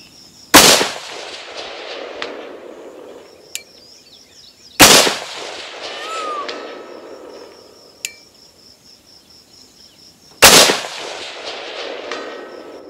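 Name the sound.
rifle gunshots at close range, Swampfox Blade prism optic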